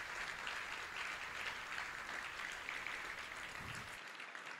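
A large audience claps steadily at an awards gala, with dense, even applause holding throughout before it is cut off abruptly near the end.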